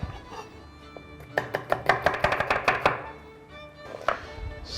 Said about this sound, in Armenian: Կտրատում ենք կիսալուսնաձև